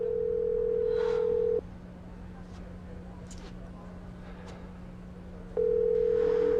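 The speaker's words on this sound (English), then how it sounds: "Is she still not answering? It's just ringing." A telephone's steady electronic tone sounds alone at first, drops out for several seconds of faint room noise and a few soft clicks, then resumes at the end, with no answer.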